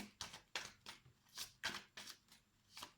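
Tarot cards being shuffled by hand for a reading, a run of quick papery riffles and slides repeating roughly every half second, close and clear with no talking.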